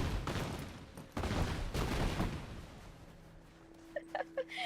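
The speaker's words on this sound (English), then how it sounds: "I can just hear explosions from afar" Rumbling bursts of distant explosions and gunfire-like booms in the first half, trailing into quieter ambience with a few faint tonal blips.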